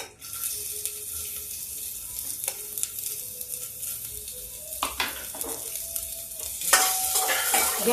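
Garlic frying in hot oil with cumin and bay leaf while a spoon scrapes and stirs the pan, a steady close sizzle broken by clinks of the utensil, no talking.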